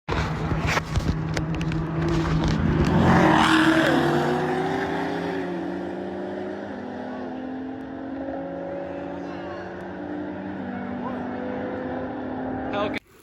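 A car race roars past nearby, with engine noise swelling loudly and then easing into a long, fading drone as the cars pull away, and a voice briefly heard over it.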